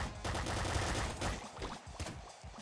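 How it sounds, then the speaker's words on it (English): Rapid machine-gun fire from the video game Nuclear Throne, a dense run of loud, overlapping shots that continues throughout, with bursts breaking into distinct cracks toward the end. "Machine gun."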